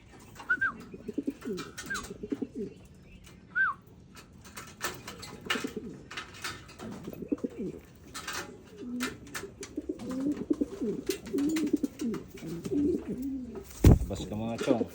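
Pigeons cooing and chirping during a free-fly release in the Philippines, soft intermittent calls over a quiet background, with someone talking in bursts and a sharp clap-like sound near the end.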